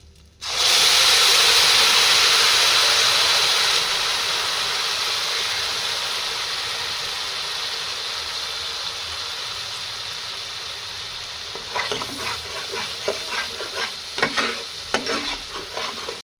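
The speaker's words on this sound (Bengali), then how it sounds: "আদা রসুন পেঁয়াজ কাঁচা লঙ্কার যে পেস্টটা বানিয়েছিলাম সেটা দিয়ে দেব" A ginger, garlic, onion and green chili paste hits hot oil with a loud, steady sizzle that slowly fades, then gives way to scattered stirring scrapes and crackles near the end.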